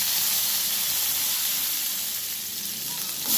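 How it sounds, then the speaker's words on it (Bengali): Cumin seeds and green chillies sizzle in hot oil for a potato, yardlong bean and mung dal curry, a loud, steady close-up hiss and crackle that carries on without a break. "ওই তেলের মধ্যে আমি দিয়ে দিচ্ছি জিরে ফোড়ন, আর দিয়ে দিলাম কাঁচা লঙ্কা"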